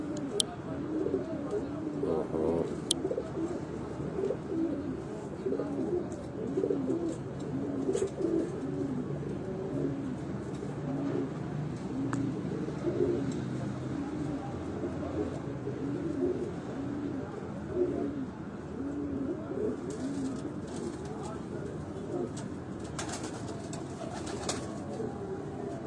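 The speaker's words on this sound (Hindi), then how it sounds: "उनके घर की ब्रीड का ये कबूतर आपको दिखाया जा रहा है" Pigeons of a Lahore breed line coo steadily and close at hand, a continuous throaty rolling murmur with scattered bird calls, spread through the whole stretch.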